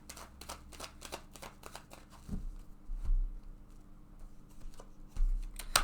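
Tarot cards are shuffled in quick, close fluttering riffles, then settle into softer taps and slides as cards are drawn, with no talking.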